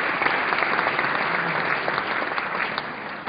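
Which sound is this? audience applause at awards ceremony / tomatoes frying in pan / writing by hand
audience applause at awards ceremony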